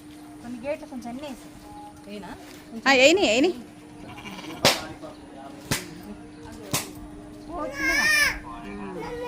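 Goats bleat repeatedly in short wavering cries, close by at a Muthyalamma festival, mixed with people talking and a few sharp clicks.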